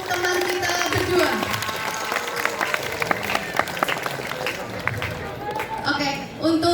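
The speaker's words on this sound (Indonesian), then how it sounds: "Kita kasih tepuk tangan yang meriah untuk teman kita berdua." Students in a classroom clap for two classmates standing at the front, a steady, moderately close round of applause with mixed voices and chatter running underneath throughout.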